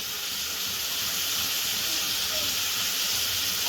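Sliced onions with salt sizzling in a hot pan for egg podimas, a steady broad hiss of frying that runs unbroken and fairly close throughout, with no talk over it.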